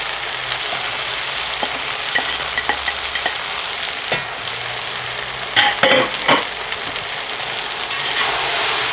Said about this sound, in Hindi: टमाटर बीच में डालकर इसी तरह आप दोबारा इसको हिलाइए, मिक्स कर दीजिएगा।